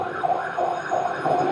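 A siren wails in a repeating up-and-down pattern, heard at moderate distance over street noise with no speech.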